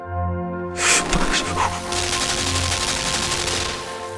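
Rapid gunfire from a turret in the dark puzzle platformer game Limbo erupts suddenly and keeps up a dense, sustained rattle over a low droning background.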